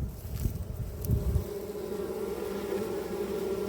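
Honeybees swarm close around an open hive during an inspection, a steady droning buzz with a few louder passes near the microphone and some light wind rumble.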